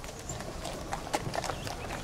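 A horse pulling a landau carriage in a German audio drama set near Leipzig, its hooves clip-clopping in a steady, moderately soft rhythm with no voices over it.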